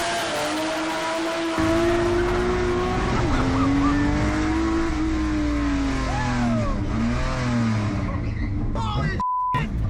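A car in a Brazilian underground car scene accelerates hard with its engine screaming through rising and falling revs and squealing tires, loud and close throughout, with a brief beep near the end.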